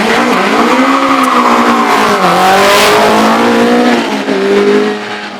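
An Argo JM9 race car with a 2-litre Vauxhall engine, built on a Formula Atlantic chassis, climbs the Shelsley Walsh hill, its loud engine wailing and shifting pitch through the gears up close, with faint tyre scrub.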